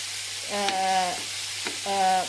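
Onions frying in a pan for Filipino pork adobo, a steady bright sizzle running throughout with two brief tonal whines rising over it, no voices.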